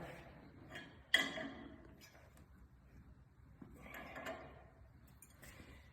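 Nuts being tightened with a wrench on front slab weights of a John Deere 2520 tractor, faint ratcheting clicks and metallic clanks with one sharp clunk, close and quiet, no talk.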